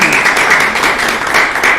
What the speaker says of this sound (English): I really want to give Melinda and Amanda and the staff a round of applause